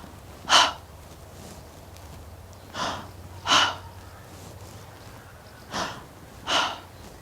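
A conductor takes quick, sharp breaths on the preparatory beat, five short audible inhalations spaced a few seconds apart, close and fairly soft over a quiet low room hum.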